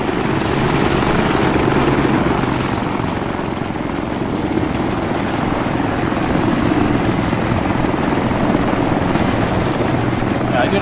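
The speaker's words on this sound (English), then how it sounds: "The heli sounds like he's having issues." Helicopter in the Arma 3 military game, apparently having mechanical issues, drones loudly and continuously with a dense rotor and engine roar throughout.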